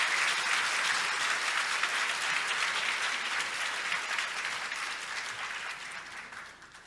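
A church congregation claps in encouragement after a pastor's seminar lecture, loud sustained applause that gradually fades toward the end.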